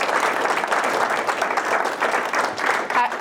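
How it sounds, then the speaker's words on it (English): Short burst of audience applause after a talk on Missouri paid sick leave and minimum wage law, brisk clapping from a modest crowd, close and steady for a few seconds. "Give Lauren a round of applause."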